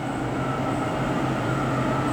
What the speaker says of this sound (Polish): Uwaga pociąg.